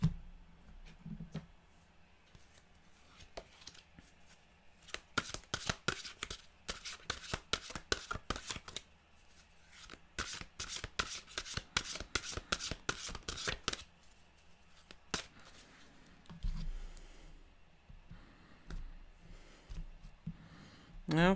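A deck of mantra cards is shuffled in a run of quick riffling bursts, mostly through the middle of the clip, close and fairly quiet, with a voice speaking briefly before and after.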